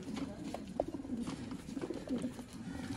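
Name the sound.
pigeons cooing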